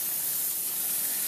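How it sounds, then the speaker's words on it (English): A steady, continuous spray of Motorex chain cleaner onto a turning bike chain hisses close by for the whole moment, with no pauses. "spray it down while turning the chain."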